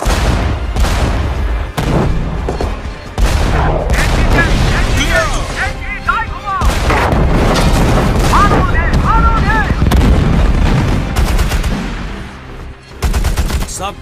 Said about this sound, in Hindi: सब टैंक्स उन पेड़ों की कतार पर गोलियां चलाएं। भून डालो उन सबको।